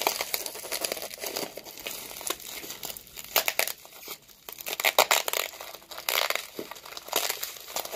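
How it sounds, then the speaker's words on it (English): Plastic wrapping is crinkled, tugged and torn off a mug by hand without a knife, giving a busy, close stream of crackling and ripping noises that continues throughout. "This is very much covered in plastic. And I need something to open it with. Need to get an angle to rip it."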